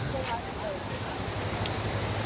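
Floodwater of the swollen Bagmati river rushes past in a steady, broad roar, heard outdoors with wind buffeting the microphone, and someone speaks over it.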